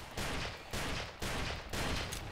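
Gunfire in the voxel shooter Ace of Spades comes as four dense, noisy bursts in a steady rhythm, each roughly half a second long, fairly faint and even in loudness.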